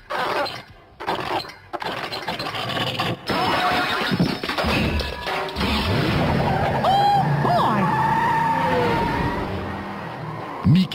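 Racing car tyres skid and engines whine in the Game Boy Color game Mickey's Racing Adventure, with squealing swerves and crash-like bursts under a busy, dense mix of game sounds and voices.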